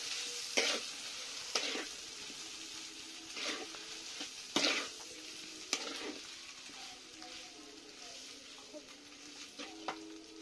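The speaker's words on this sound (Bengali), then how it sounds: "এবার ঢেলে দেওয়া পুরোপুরি নুডলসটা। ভালো করে নেড়ে মিশিয়ে দেওয়া হবে।" Noodles stirred and tossed in a hot frying pan, a steady sizzle broken by several sharp scraping strokes of the utensil at irregular intervals, close and moderately loud with no talking.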